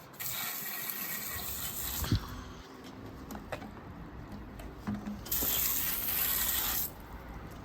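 Water from a garden hose spraying over a tubeless bicycle wheel outdoors, a steady broadband hiss with louder bursts early and again late, plus a few small knocks and clicks.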